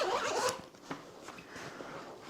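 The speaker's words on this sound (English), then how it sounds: "we have another zipper, which is aqua guarded YKK, and this opens up to the dedicated laptop compartment on the bag" An aqua-guarded YKK zipper on an Alpaka Metro Pro 24L backpack slides open to the laptop compartment, a brisk close ripping burst in the first half second followed by a few faint, scattered ticks and rustles.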